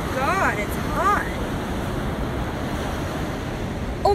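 Surf at Hot Water Beach on New Zealand's North Island rushes in a steady, loud wash mixed with wind buffeting the microphone, while a voice briefly talks near the start.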